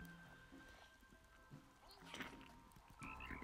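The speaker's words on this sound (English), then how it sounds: "Frogs made that noise." Frogs croak in short bursts over steady rain-like ambience in the video game WorldBox, quiet and somewhat distant, with faint background chatter.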